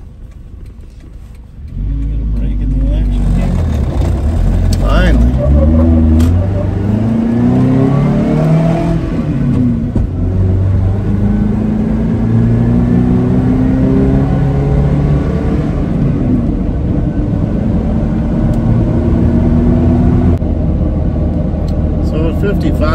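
A second-generation Toyota Tacoma pickup truck fitted with a TJM snorkel hums and shifts pitch as it drives steadily along a road at about 55, heard from inside the cab with constant road noise.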